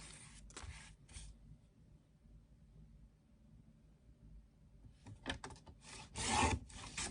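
Paper being cut out by hand for a Halloween coffin-shaped mini album, with soft scraping and rubbing strokes at the start and a denser burst of cutting and rustling near the end, close and fairly quiet.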